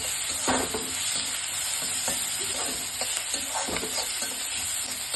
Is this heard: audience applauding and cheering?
no